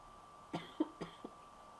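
Four short, quiet coughs in quick succession, close to the microphone, with near silence between them.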